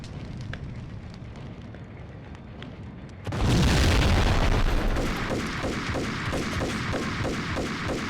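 Trap explosions in Max Payne: a quiet, crackling game scene gives way to a sudden loud boom, followed by a long rumbling, crackling fiery tail that slowly fades.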